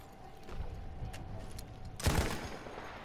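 A burst of rifle fire in Battlefield 1 cracks out loudly near the end, over a low rumble and scattered faint battlefield noise.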